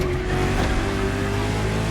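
A luxury hypercar with four-figure horsepower in The Crew Motorfest hums steadily with engine drone and faint tire noise, a continuous, even car sound throughout with no speech.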